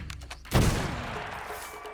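A single loud musket shot in Assassin's Creed Shadows, a sharp close blast at the start followed by a long ringing decay, with no talk.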